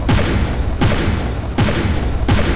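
A fast-firing kinetic weapon turret in the From the Depths game fires in loud, repeated bursts, four heavy volleys evenly spaced and close, with no talking over them.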